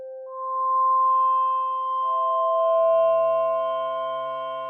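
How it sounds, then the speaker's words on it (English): Pure electronic sine tones hold steady, stepping up in pitch partway through, clean and sustained with a faint lower tone added later. "As the name suggests, this module produces a sine wave."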